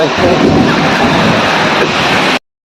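Rain pouring at a college campus, a loud, dense, continuous wash of noise with some wind-like roar, close to the microphone and steady throughout.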